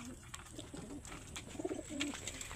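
Pigeons coo softly at a feeding spot in a racing loft, repeated low murmuring calls at close range with no talk over them.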